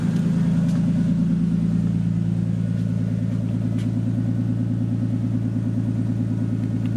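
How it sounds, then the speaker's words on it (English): Nissan R32 drift build engine idling on a cold start at a raised idle, a steady, loud, rhythmic exhaust burble that stays constant throughout with no speech. "Why is it idling at 1700 though?"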